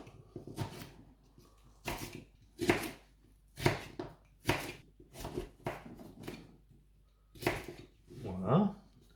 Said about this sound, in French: L'oignon, on le coupe en 4.